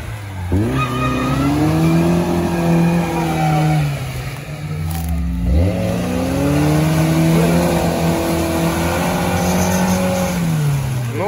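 Offroad race cars, a Mercedes and a Toyota, rev loudly with engine pitch climbing and dropping in long sweeps and a sharp dip midway, continuous and close.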